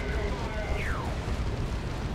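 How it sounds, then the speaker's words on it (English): Las cannon fire booms in the Dawn of War II strategy game during a battle against a Dreadnought, a rumbling explosive roar with a descending whine running beneath steady commentator talk. "Taking las cannon fire, taking some smacks from that Dreadnought."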